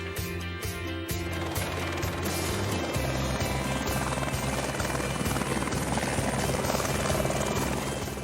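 A helicopter is heard near and loud, its rotor beating in a steady, rapid thump with a heavy engine roar that holds for the whole stretch, in Cayenne.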